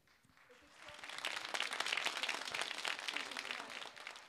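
An audience applauds to see off guests at a Turkish folk music show, with a steady wash of clapping that swells after a second and holds to the end, moderately distant.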